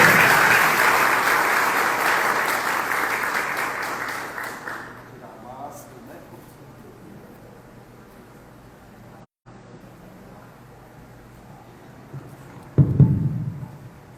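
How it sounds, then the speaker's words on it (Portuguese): Audience applause in an auditorium at a book launch, loud and dense for about five seconds before fading out, followed by a quiet room and a brief thump near the end. "uma salva de palmas"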